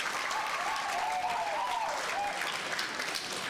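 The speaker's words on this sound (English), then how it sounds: "Let's give them one round of applause," An audience at a school honours day ceremony applauds in a steady wash of clapping that lasts a few seconds, with a faint voice or tone audible partway through.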